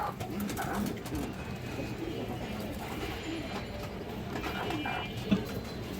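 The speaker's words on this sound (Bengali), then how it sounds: "দেখেন খুবই সুন্দর একটা কবুতর" Soft pigeon coos and faint bird calls over a steady background murmur, fairly quiet and continuous throughout.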